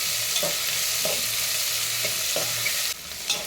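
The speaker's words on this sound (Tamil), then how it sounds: "வெங்காயம் வந்து நல்லா எண்ணெயில் நல்லா வதங்கணும்" Onions sautéing in oil for coconut milk rice, a steady close sizzle with periodic scrapes of a stirring spoon against the pan, fading slightly near the end.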